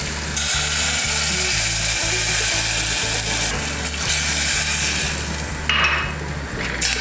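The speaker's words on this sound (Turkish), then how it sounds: "Sosunu kızartıyoruz." A steady, loud sizzle of sauce for stuffed onions frying in a pan carries on without a break, with a low rhythmic hum underneath and occasional light clinks.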